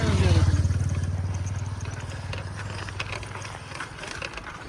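An off-road motorcycle on a village trail rattles and putters with a rapid engine pulse, loudest at first then settling as it moves along bumpy ground, with a voice talking over it.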